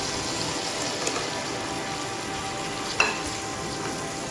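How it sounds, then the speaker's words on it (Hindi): Halwa kaddu pumpkin fries in a pan with mashed tomato, black pepper and spices, a steady close sizzle with light stirring, a soft clink near one second and a sharper clatter around three seconds. "इसे अच्छी तरीके से भून लेंगे।"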